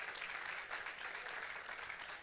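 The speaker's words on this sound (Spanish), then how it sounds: "Denle un aplauso al Señor por eso." A church congregation applauds, a soft, distant, steady wash of many hands clapping that carries on evenly with no one speaking over it.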